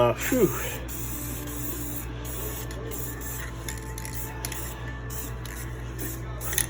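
Aerosol spray can misting light coats of finish onto Toyota FJ60 Land Cruiser interior trim parts, a steady hiss over a low background hum with short pauses between bursts, no talking.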